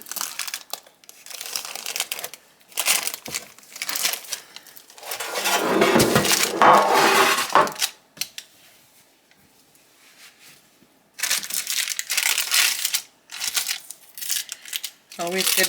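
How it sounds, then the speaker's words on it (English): Parchment paper crinkling and crumpling in bursts while a pan of layered cookie-butter brownies is handled, with a longer rustle in the middle and some talking in between. "Always good to put the parchment paper on."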